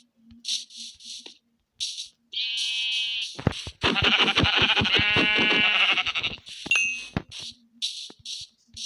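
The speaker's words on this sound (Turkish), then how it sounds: "O burada bayağı koyun varmış." Several sheep bleat in short, high, buzzy calls, one after another, with a brief chime partway through; the sounds are clean and synthetic, from the video game Minecraft.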